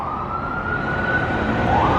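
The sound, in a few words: emergency vehicle sirens on a New York street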